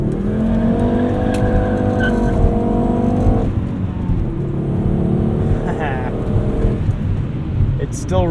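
A 1997 Volvo 850 R with a 5-speed manual and BRZ tires spins its inside wheel on a back road, its engine revving hard and close with a faint tire squeal, while a voice talks over it.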